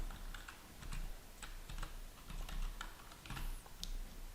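A user ID is typed on a computer keyboard as a run of quick, uneven key clicks, close and fairly quiet, with short pauses between bursts.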